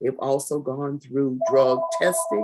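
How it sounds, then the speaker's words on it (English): A mobile phone rings with a steady electronic tone during a conference presentation, starting partway through and sounding beneath a speaker who keeps talking. "I apologize for my phone, but it's too far for me to move it."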